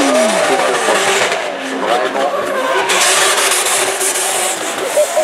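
A drift car engine screams and revs hard nearby at a French drift championship at Calmont, pitch sweeping up and down repeatedly with tire squeal and crowd noise in the background.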